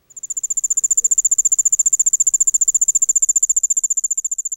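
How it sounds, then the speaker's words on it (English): A single cricket chirps in a fast, even pulse train, loud and close, continuing steadily for several seconds against silence. "Crickets, we all know what they sound like."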